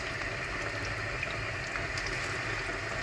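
Chopped onions sizzle in red palm oil for a beans stew, a steady close crackle and hiss of frying that runs unbroken and fairly loud throughout, with no talking.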